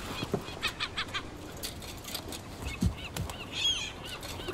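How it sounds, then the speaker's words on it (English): Birds honk and squawk in the Concrete Genie video game, with several short, moderately loud calls in quick bursts over a steady background ambience and no speech. "Look at these dumb birds."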